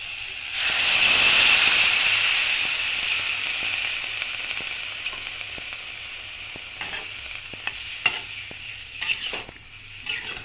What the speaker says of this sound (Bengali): ভালো করে ভাজা হয়ে গেছে, বা দিয়ে দিচ্ছি জল